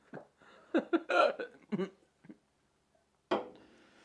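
During a live podcast, a hiccup pops out amid short bursts of nearby talk and chuckling, brief and sharp, followed by a pause and another abrupt vocal burst.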